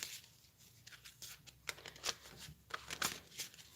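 Oracle cards are shuffled by hand in a quiet room, giving soft, uneven bursts of riffling and papery flicks that come and go over a few seconds.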